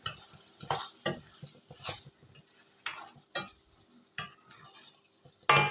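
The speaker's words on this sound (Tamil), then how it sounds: "நல்லா கலக்கி விட்டு ஸ்டவ் ஆஃப் பண்ணிடலாம்" Chicken gravy is stirred in a pan near the end of cooking, a quiet soft sizzle broken by irregular sharp scrapes and knocks of the spoon against the metal, close by with no talking.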